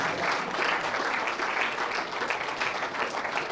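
A steady, dense round of audience applause for a player at a pool world championship, sustained clapping from a live crowd with no pause.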